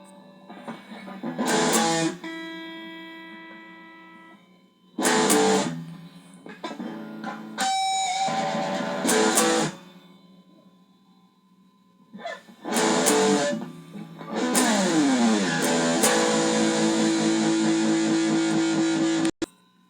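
Electric guitar playing the rhythm-part intro of a song in bursts of strummed, effected chords separated by short pauses, ending with a longer sustained passage.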